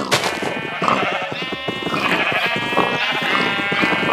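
Several sheep bleat repeatedly in Minecraft over a steady bed of pig and cow noise, loud and close, with overlapping calls throughout.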